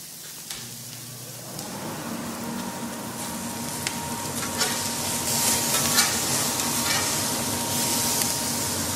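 Lamb sizzles on a bed of mint on a Capital Culinarian grill, giving a steady close frying hiss with scattered crackles and pops that grow slightly louder as it goes.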